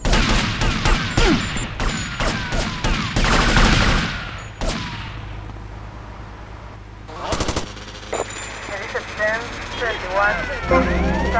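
Rapid bursts of automatic gunfire ring out in GTA Vice City, loud and dense over a busy street scene. Shouting voices and traffic noise come in and out, with a later stretch of scattered shots and whining, siren-like tones.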